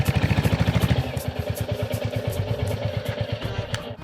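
A nearby motorcycle engine idles with a rapid, pulsing thump, steady and loud, settling slightly lower after the first second.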